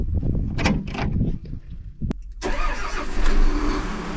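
A tractor engine cranks and catches, then settles into a steady close idle after a brief clunk, with no talk over it.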